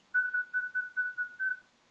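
A person whistles through pursed lips, a steady close tone broken into about seven short phrases, clear and alone against silence.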